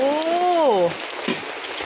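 Steady patter of rain at a market in Lopburi, Thailand, with a broad hiss throughout, briefly overlaid by a gliding tonal sound near the start.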